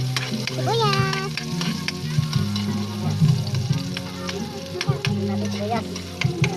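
Chopped onions sizzle in hot oil in a pan, the start of cooking banana pith with native chicken and mung beans; a steady, close frying hiss with stirring clatter, and some faint background sounds.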